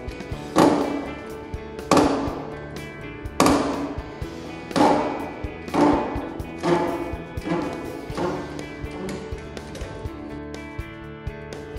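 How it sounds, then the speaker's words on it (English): A hydraulic hand pump on a self-centering puller is pumped to pull off a bearing, giving about eight spaced, sharp mechanical clunks that fade slowly, each followed by a brief ringing decay. "Pump the handle to dismount the bearing."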